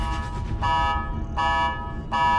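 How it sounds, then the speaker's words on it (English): A proximity alarm blares inside Eggman's base in three evenly spaced electronic buzzing bursts, each about half a second long, loud and harsh over a low background rumble. "Sounds like your proximity alarm, Eggman"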